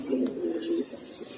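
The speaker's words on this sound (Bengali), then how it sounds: "দেখেন কবুতরগুলো দেখেন সব ফ্লাইয়ের কবুতর" Flying-breed pigeons offered for sale coo in a close, fairly loud burst of throaty warbling that fades into softer murmurs, under a constant high electronic whine.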